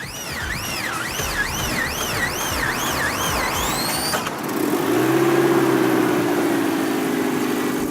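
A right-hand drive Toyota Celica cranks hard with a rhythmic, whining starter for about four seconds, then the engine catches and settles into a steady, fairly loud idle.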